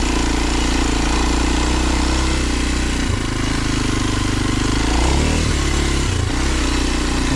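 A Jeep engine drives along the leaf-covered Round Knob off-road trail, a loud, steady close-up drone with rough low rumble and small shifts in pitch as the throttle changes, with no talk.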